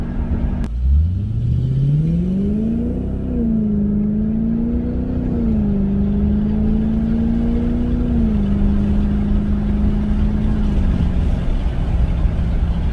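From inside the cabin, a Lexus LS460 with its muffler deleted gives a deep, steady exhaust drone. It swells as the revs rise, then holds a constant growling tone for the rest of the run.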